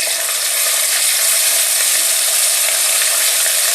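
Lightly browned onions sizzle loudly in hot oil as garlic and ginger paste goes in for a chana dal kofta curry, a dense, unbroken hiss heard close up and alone.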